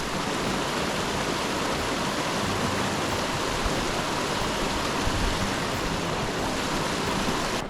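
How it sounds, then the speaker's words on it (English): A mountain stream in the White Mountains rushes steadily along a hiking trail, a dense, even broadband wash of flowing water, close and continuous without pause or voices. "Can hear water, that's a good thing."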